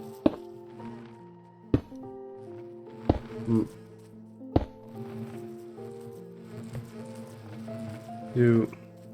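Bees buzz around a row of Omega hives in a heavily modded Minecraft game, a looping drone with sharp clicks and tonal game effects breaking in at intervals.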